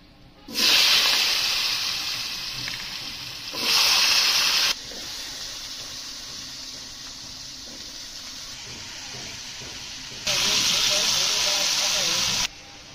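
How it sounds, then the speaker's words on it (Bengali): Cumin and chopped potatoes hit hot oil in a pan, giving loud bursts of hissing sizzle that ease into a steady softer crackle, while someone talks between the bursts. "তেল গরম হয়ে গেছে, আমি জিরেগুলো দিয়ে দেবো। আলুগুলো কুচে রাখেছি আগেরতে, আলুগুলো সুন্দর করে ভেজে নিতে হবে।"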